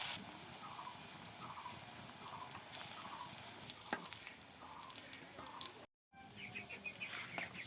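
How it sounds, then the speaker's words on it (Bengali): Onion fritters (piyaji) made from ground lentils fry steadily in hot oil with a dense, continuous crackling sizzle that fills the whole stretch, broken by one brief dropout. "তেল গরম হয়ে গেছে, তাই আম্মু পেঁয়াজি দিয়ে দিচ্ছে।"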